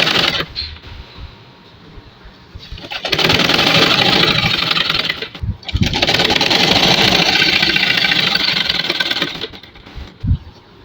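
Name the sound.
sewing machine stitching a kameez collar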